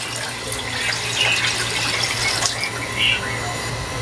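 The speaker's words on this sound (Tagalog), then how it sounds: "maglalagay po tayo ng tubig dito." Water pours steadily into a pan used for cooking vegetables for pancit guisado, in a continuous gushing stream, with faint talk in the background.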